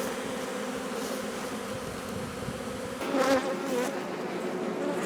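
Honey bees swarm around hive boxes with a steady, close buzz that grows louder and busier partway through, as if more bees join in. No voices are heard.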